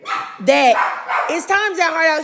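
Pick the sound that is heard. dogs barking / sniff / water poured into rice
dogs barking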